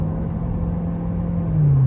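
A Corvette's deep, throaty engine rumble hums steadily nearby while cruising at night on light throttle, then swells slightly as the revs rise at the end.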